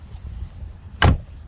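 Door of a high-mileage Volvo V70 II estate car shutting with a single solid thump close by, heard over a low outdoor rumble.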